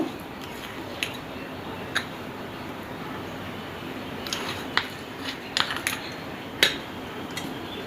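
Wheat flour and date palm jaggery are mixed in a bowl, with faint soft stirring and scattered sharp clinks of a utensil against the bowl at irregular intervals.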